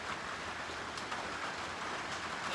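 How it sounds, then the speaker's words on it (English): Steady rain that has gone on for about a week pours down outdoors as a dense, even hiss, with faint scattered drop impacts over a constant wash of noise and no voices. "I'm tired of this rain."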